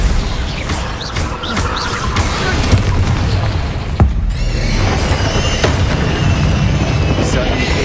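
A booming Bombarda spell explosion in the Hogwarts Legacy video game, a loud blast amid dense game noise that carries on as a sustained, roaring crash-and-rumble wash with sharp pops, close and continuous.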